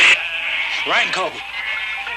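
A sheep gives a single wavering bleat in an outdoor pastoral scene from a 1972 film, heard against a steady hiss of background noise.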